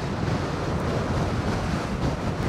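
Strong wind at Fort Myers Beach while riding a Gotway MSX 100V electric unicycle, a dense, loud roar buffeting the microphone continuously with no voices.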